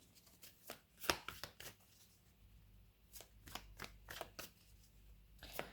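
Tarot cards are shuffled and laid out by hand, giving a series of crisp, papery flicks and slaps spread irregularly across the stretch, with a tighter cluster near the end, fairly close and quiet with no voice.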